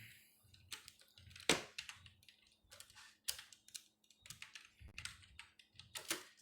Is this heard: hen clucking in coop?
no